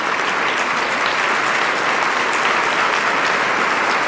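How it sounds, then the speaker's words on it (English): Steady, dense audience applause fills a meeting hall at an annual business meeting, loud and continuous throughout with no break or speech. "So if you'd please join me in thanking Bob."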